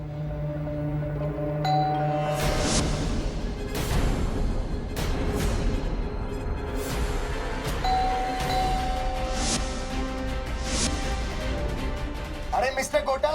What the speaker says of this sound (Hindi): घंटी मारो।